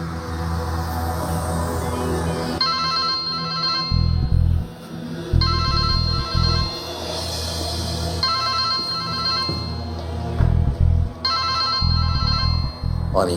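A telephone rings in repeated bursts of bright electronic trilling, each burst separated by short pauses, over a low droning background with muffled thumps and movement in a tense crime-drama scene.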